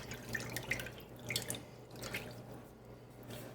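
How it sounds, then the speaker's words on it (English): Brine poured from a container over pork chops in a dish, giving a close, steady trickle and splash of liquid with a few brighter drips. "Put my pork chops in a dish, and we're just going to pour these over."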